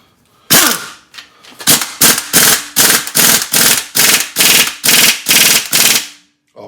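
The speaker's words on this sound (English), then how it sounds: "We're going to try a little impact on the camshaft bolt here." An impact wrench hammers at the camshaft bolt of a seized, rusted 413 engine from a 1967 Plymouth Belvedere, giving loud close rattling bursts in a regular series of about ten short pulses.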